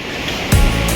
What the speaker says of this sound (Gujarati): જો ગંગા નદી